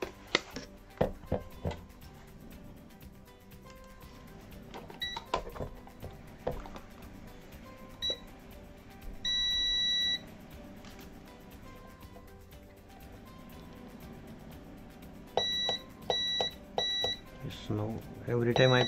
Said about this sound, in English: Now every time I press the switch, it's beeping.